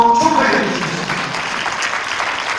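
Guests clapping at a Korean church wedding ceremony as the couple is pronounced married, with a voice and a brief tonal note at the start before the steady applause continues.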